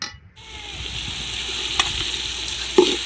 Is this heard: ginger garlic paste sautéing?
yes